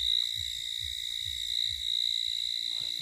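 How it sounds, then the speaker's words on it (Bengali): Crickets or similar night insects keep up a steady, unbroken high-pitched chirring in a quiet outdoor spot after dark, with soft, regular low throbbing pulses beneath. No one speaks. "ঝিঝি পোকার শব্দ শোনা যাচ্ছে"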